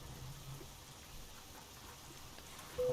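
Steady rainfall in the Euro Truck Simulator 2 video game, a soft continuous hiss of rain pattering on surfaces throughout, fairly quiet with a faint tone entering near the end.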